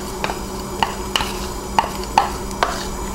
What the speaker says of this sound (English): And we'll just mix this together.